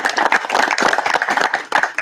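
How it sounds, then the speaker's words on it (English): A small group at a panel discussion gives a brief round of applause, a few distinct hands clapping in a quick, uneven patter close by, with no talking. "let's give a quick round of applause to Jen and Bob"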